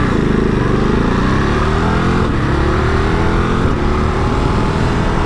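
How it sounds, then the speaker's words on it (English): A 2021 Ducati Monster motorcycle under way, its engine a loud continuous drone from the rider's position, with rising pitch sweeps and brief dips as the quick shifter snaps through gear changes, no voices. "It's got that lovely little quick shifter as well, which makes for pretty seamless gear changes."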